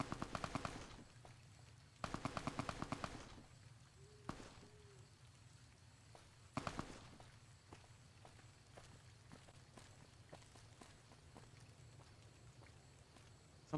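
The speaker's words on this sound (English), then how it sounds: "I heard gunfire, but from where?" Gunfire in the video game Fallout New Vegas, two quick automatic bursts followed by a couple of single sharp shots, distant-sounding against a low ambient hum with light footsteps.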